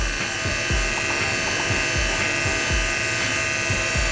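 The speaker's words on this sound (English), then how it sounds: "we're gonna take our Andis clipper and we're just gonna" An Andis electric hair clipper buzzes steadily at close range while cutting hair, a continuous motor drone with soft, rhythmic strokes pulsing through it as the blade passes over the head.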